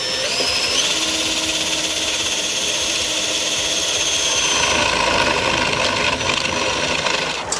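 A power drill with a spade bit bores a starter hole through cabinet wood for a built-in fireplace media cabinet, a loud continuous whining grind that shifts pitch near the end, with no talking.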